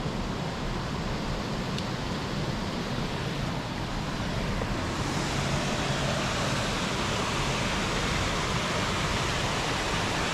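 Water pouring down at Pahanthudawa waterfall in Sri Lanka, a steady, loud broadband rush that fills the whole stretch without breaks, close by and with no voices over it.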